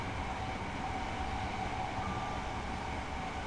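A train rolls along in Train Simulator Classic, a steady rumbling carriage drone with a faint constant hum, even and unbroken from start to finish, no voices.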